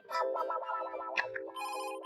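A short electronic ringtone melody plays, tinny and close, with a brief pause before the tune resumes.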